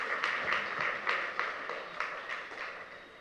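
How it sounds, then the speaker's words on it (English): A small audience at a town hall meeting for returned diaspora claps for Ms. Lee and her team, a moderate, steady patter of hands at some distance, easing slightly toward the end with no talking over it. "You deserve a round of applause."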